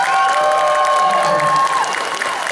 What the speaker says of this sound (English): let's just give another big round of applause for Mr. David Yost.